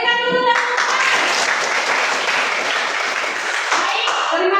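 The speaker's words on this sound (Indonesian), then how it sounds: "Berikan dulu tepuk tangan." An audience in a classroom or meeting claps loudly and close by in a dense burst that starts after a moment of speech and runs steadily almost to the end, where talk returns.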